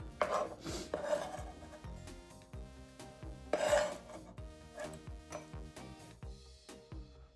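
Knife chopping shallots on a cutting board: a steady run of close, sharp taps with scraping and faint kitchen clatter, no voices.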